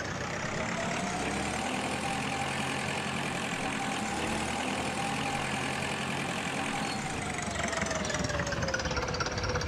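A farm machine in the Agricultural Simulator 2013 video game whirs and drones continuously with a dense, steady mechanical engine rumble, loud and unbroken throughout.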